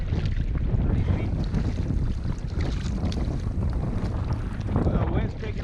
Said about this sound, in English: Well, wind's picking up even more. So much for a light wind today.